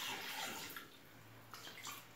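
Water pours into a Thermomix mixing bowl while 300 g is weighed out for an Apulian frise dough, a close, steady splashing gush that eases briefly midway and then continues.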